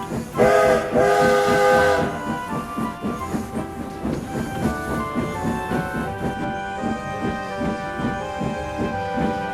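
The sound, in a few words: steam locomotive whistle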